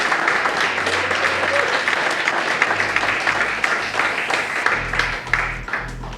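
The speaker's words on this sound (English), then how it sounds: "Please give her a round of applause." Sustained audience applause at an awards ceremony for a tile company, loud and dense throughout with a steady wash of clapping and faint low hum underneath.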